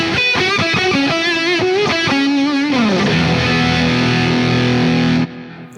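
Heavily distorted electric guitar through a Vemuram distortion pedal plays a few choppy chords, then a sustained fuzzy chord rings out loudly before cutting off abruptly.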